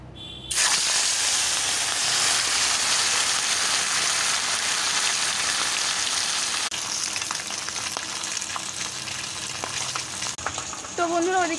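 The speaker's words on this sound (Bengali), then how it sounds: "ওদিকে মাছ ভাজছি।" Fish frying in a home kitchen gives a steady, loud sizzle and crackle that starts abruptly and runs on without pause, with small pops and faint stirring noises near the end.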